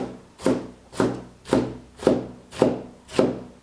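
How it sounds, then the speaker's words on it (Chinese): A knife chops napa cabbage on a board, cutting it into sections and then strips: six evenly spaced, close, crisp strikes about half a second apart, with no talking. "先切成段儿， 再横着切成丝"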